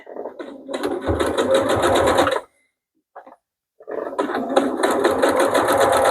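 A sewing machine stitching fabric close to elastic runs loud and steady in two long bursts, a high whirring rattle of rapid stitches, separated by a short pause with a faint click.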